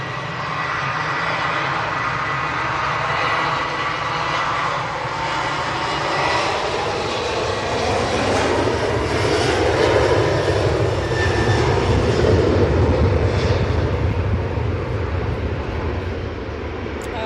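Jet engines of a Ryanair airliner roar steadily while it lines up at the airport, a loud, continuous broadband rumble and whine that swells slightly midway and holds throughout.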